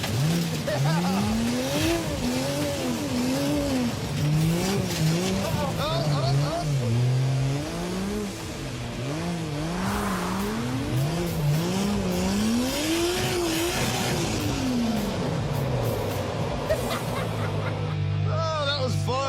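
Dodge Charger engine revving on a race track, a continuous loud roar with rising and falling pitch sweeps as it shifts and brakes, tire noise mixed in, with some people talking over it.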